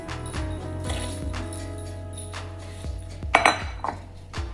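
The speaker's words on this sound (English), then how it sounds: "And add in the scallops." Shrimp and scallops tumbling into a metal pot of seafood chowder, a brief cluster of clinks and clatters against the pot after a steady stretch of low kitchen hum.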